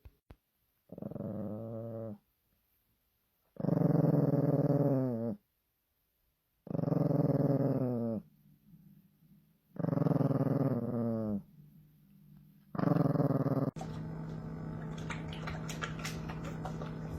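A dog growls in several long, loud bursts separated by pauses, close to the listener, and a steadier rumbling noise takes over near the end.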